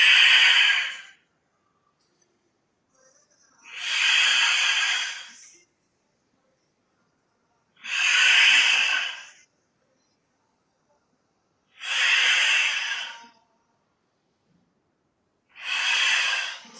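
Five slow, deliberate breaths during a Pilates exercise, each a loud close airy exhale or inhale lasting about a second, separated by quiet pauses in an even rhythm.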